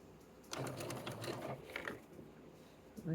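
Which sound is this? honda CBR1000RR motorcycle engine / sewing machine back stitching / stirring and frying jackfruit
sewing machine back stitching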